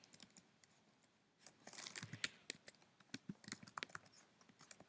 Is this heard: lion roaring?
no